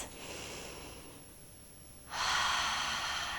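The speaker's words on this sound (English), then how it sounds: "exhale out through the mouth as we draw in the abdominals" Deep breath exhaled out through the mouth during a Pilates mat core exercise, a soft airy rush that swells into a louder, steady blowing exhale after a quieter start, close and alone.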